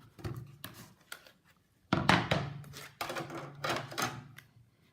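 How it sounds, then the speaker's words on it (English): A Big Shot die-cutting machine cranks a tufted embossing folder on a standard cutting pad, giving a close series of loud ratcheting clacks and grinding bursts in uneven runs with brief pauses. "you run it through your Big Shot"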